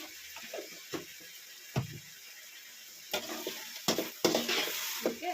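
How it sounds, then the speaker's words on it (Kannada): Field beans, fenugreek leaves and onion frying in oil, with a soft sizzle throughout and intermittent scraping and clacking as a spoon stirs the pan, louder toward the end. "ಮೆಂತ್ಯ ಸೊಪ್ಪು ಚೆನ್ನಾಗಿ ಫ್ರೈ ಆಗ್ತಾಯಿದೆ"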